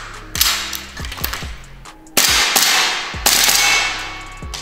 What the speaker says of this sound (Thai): เดี๋ยวเราจะมาลองยิง M14 กันเลยมาด้วยปืนตัวนี้นะครับ